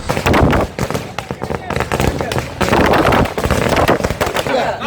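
Firecrackers bursting at an outdoor DMK party flag-hoisting celebration in Nellai, with dense, loud crackling pops in rapid irregular bursts and a crowd talking throughout.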